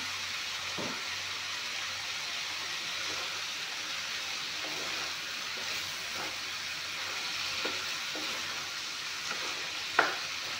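Green chillies sizzle and crackle steadily in hot oil for a pea curry, with occasional soft clicks of a utensil stirring the pan.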